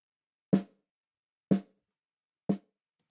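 Snare drum with a strong 200 Hz body boost, three evenly spaced solo hits about a second apart, each punchy with a short decay and silence between strokes.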